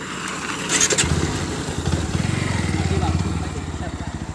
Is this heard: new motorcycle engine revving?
yes